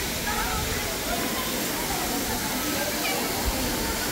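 Madhabkunda waterfall in Bangladesh, crowded with tourists, sends up a steady broadband roar of falling water that fills the air evenly and does not let up.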